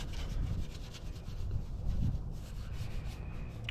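A brush scrubs cleaner into a car engine bay, giving a steady, close, rasping rub with short repeated strokes and no voices.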